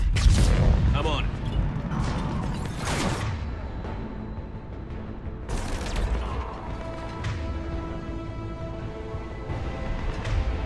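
Heavy ship cannons boom in the Mass Effect 3 Omega mission, with several loud blasts and crashes over a din of combat noise and characters talking.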